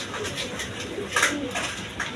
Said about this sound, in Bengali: এখানে এক পেয়ার আপনার হাই ফ্লাইং গিরিবাজ কবুতর আছে